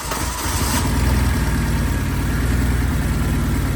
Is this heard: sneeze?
no